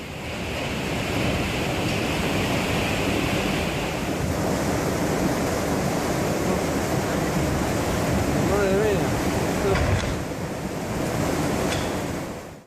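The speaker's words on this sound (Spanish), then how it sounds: "El caudal de agua era tan fuerte que fácilmente arrastró un coche río abajo" A flash flood torrent rushes through a city street, a loud, constant roaring wash of water with wind buffeting the microphone, steady for the whole stretch.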